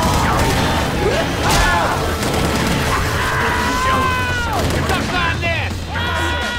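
Gunfire in Left 4 Dead 2 during a Whispers of Winter custom campaign, rapid loud shots and crashes in a dense, continuous game mix with speech-like sounds throughout.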